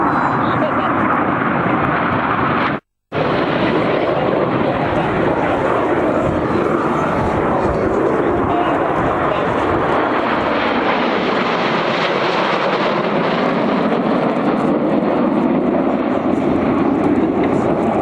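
Aerobatic formation aircraft fly past at an airshow with a loud, sustained engine roar that fills the whole stretch, cut off only by a brief dropout near the start.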